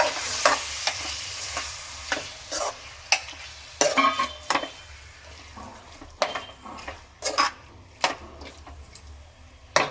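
Chicken pieces sizzle and fry in a pan with golden-browned ginger garlic paste for chicken curry, stirred now and then with sharp scraping clatters over a steady crackling hiss.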